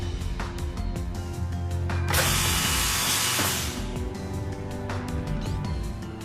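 A GANNOMAT Elite machine drills holes and inserts dowels with continuous mechanical whirring and clicking, rising to a loud, bright burst of drilling midway before settling back to a steady running hum.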